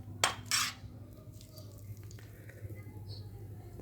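Cooked salad scooped from a clay pot in a home kitchen, a couple of sharp utensil scrapes and clinks near the start, then soft quiet handling and faint background noise.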